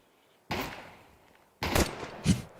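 Two quick pistol shots from a USP in Counter-Strike crack out with a short pause between them, followed by a softer third report.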